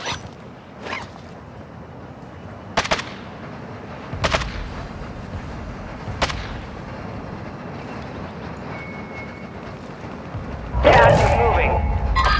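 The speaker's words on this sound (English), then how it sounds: "Our mortar strike is inbound." Distant mortar strike explosions in Call of Duty land as a few sharp blasts spread across the stretch, followed near the end by a louder burst of rumbling impacts over steady battlefield ambience.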